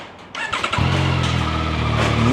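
A 2025 Yamaha R9 motorcycle with a CP3 three-cylinder engine starts up: a short starter whirr, then the engine catches and settles into a loud, steady idle close by.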